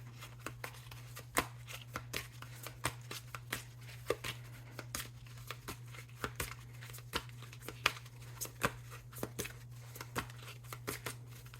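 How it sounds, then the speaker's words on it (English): Tarot cards are shuffled quietly in a close, irregular run of crisp snaps and riffles over a low steady hum, with no talk. "Let's just do a little bit more of a shuffle here."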